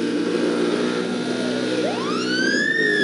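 A police siren wails up from Need for Speed Undercover during a chase, rising in pitch and growing loud over a steady rumbling engine and road-noise bed.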